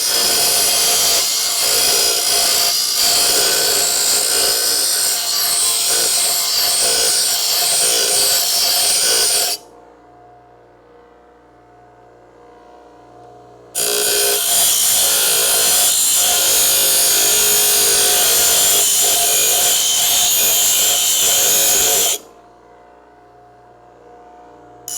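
Coarse-grit sandpaper worked by a power sander during a Crew Cab Charger car restoration, a loud, harsh, broadband rasp in two long bursts of about ten seconds each, separated by short pauses that leave a low background hum.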